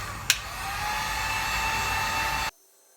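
A heat gun blows steadily while heating the lip of a wooden hockey goalie stick, a constant airy roar after a brief click, cutting off abruptly before the end.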